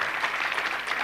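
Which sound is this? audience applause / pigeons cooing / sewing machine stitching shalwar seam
audience applause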